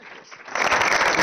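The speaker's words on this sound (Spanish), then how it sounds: "un fuerte aplauso para vosotros" An audience at an animation conference breaks into applause for the panel speakers, the clapping swelling suddenly midway through and then staying loud and dense.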